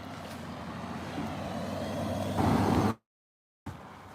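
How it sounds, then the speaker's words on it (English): Vehicles passing on a street, one swelling louder as it nears, a heavy engine rumble close by before a sudden cutoff, with a short burst of sound after. "I'm trying to cross the street right now, letting the cars go by."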